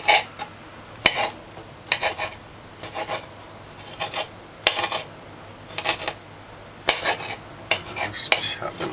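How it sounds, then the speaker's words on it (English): Knife chopping fruit for a Jamaican Christmas cake, a wedding-cake style recipe: repeated short cuts and clinks against a board in irregular bursts across the clip, close and moderately loud, with no talking. "Just chop them up a little."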